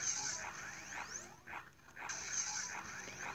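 A dog in the video game Pixel Gun whimpers in a few faint, high, whiny bursts against game background noise.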